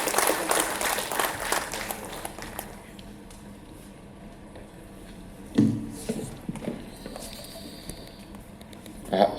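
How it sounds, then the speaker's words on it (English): Audience applause welcoming a chief guest at a university event in Visakhapatnam, a broad burst of clapping at the start that fades within a few seconds, followed by quieter room noise and a few soft bumps. "Let's welcome him with a huge round of applause"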